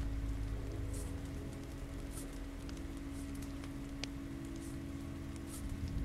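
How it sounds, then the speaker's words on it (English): Steady rain in The Walking Dead video game, a dense even patter and hiss with scattered close drips, continuing alone without any talk. "This rain will turn to sleet."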